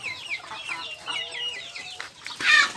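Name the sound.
hungry Rhode Island chickens clucking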